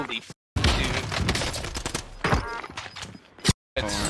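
Rapid gunfire in Call of Duty Warzone, dense overlapping automatic shots in an almost continuous loud barrage broken by brief silent gaps, with a voice speaking in places.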